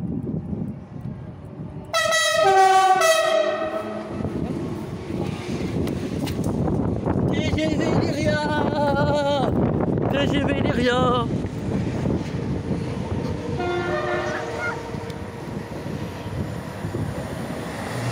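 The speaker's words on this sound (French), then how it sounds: "Il a refait le klaxon à la fin." RER D train passing through Maison-Alfort station and sounding its horn: a loud blast near the start, rolling rumble and wind buffeting as it goes by, and further horn calls later.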